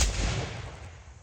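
A single musket volley fired in a graveside salute booms loudly at the start and rolls away into a fading echo outdoors.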